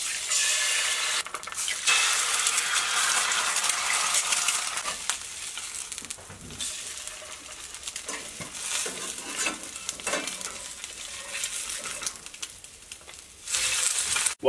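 Food sizzles steadily in two cast iron skillets, one a Griswold, being seasoned on the stove, with a bright continuous hiss and occasional stirring and scraping sounds throughout.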